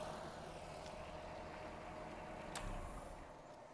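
Audi A4 B5 fitted with a VR6 3.2 engine idling through its exhaust muffler, a steady deep rumble held at an even level close by, with a brief sharper click partway through.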